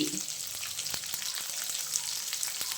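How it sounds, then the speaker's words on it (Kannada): Mutton masala frying in a pan, a soft continuous sizzle with faint crackles and occasional stirring taps, close and quiet with no talking. "ಇನ್ನು ಒಂದು ಐದು ನಿಮಿಷ ಫ್ರೈ ಮಾಡ್ಕೊಳ್ಳೋಣ"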